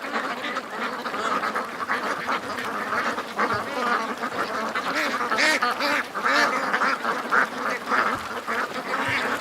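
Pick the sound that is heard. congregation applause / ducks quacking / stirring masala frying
ducks quacking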